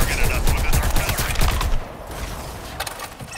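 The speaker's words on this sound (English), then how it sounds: "Just targeted us with his artillery." Rapid artillery fire from the Suicide Squad: Kill the Justice League video game, a loud, dense barrage of overlapping blasts that cuts off abruptly, followed by quieter scattered impacts.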